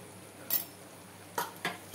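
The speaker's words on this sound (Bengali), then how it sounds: "এবার খুব ভালো করে আমি মশলাটাকে কষিয়ে নেব" A spoon scrapes and clinks against a pan while spice paste for a Bengali chicken curry is stirred and fried, in four short separated bursts over a quiet, faint background.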